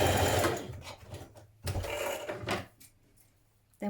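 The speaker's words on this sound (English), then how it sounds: "Stitch your side seams of your underarm seams rather of your sleeves." A sewing machine stitching the side seams of a knit dress, running in several short bursts of steady motor whir with brief pauses between them, close and clear.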